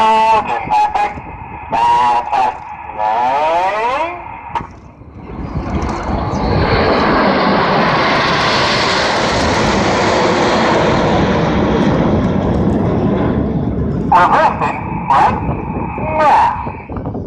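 Red Arrows display jets fly in formation at a seaside airshow, a loud, swelling roar that builds, peaks overhead and slowly fades, with a commentator talking before and after the pass.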